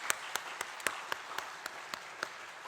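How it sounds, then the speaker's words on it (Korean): A church congregation at a Sunday worship service claps in crisp, separate, evenly spaced hand claps, about ten in under three seconds, with no talk over them. "우리 한번 청년들 한번 박수 한번 해주세요"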